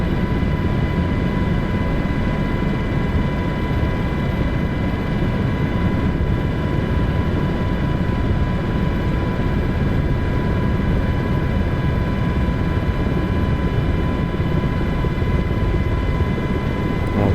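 Helicopter flying over the Pyramids of Giza, a loud, unbroken drone of engine and rotor heard from inside the cabin, steady and dense for the whole stretch with a constant whining tone above the rumble.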